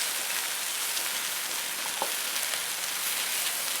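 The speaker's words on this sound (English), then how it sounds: "And boy, it's sizzling" Continuous crackling hiss of skirt steak sizzling over a hot fire, steady and dense with faint pops, no talking.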